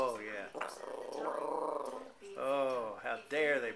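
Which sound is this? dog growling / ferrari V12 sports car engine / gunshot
dog growling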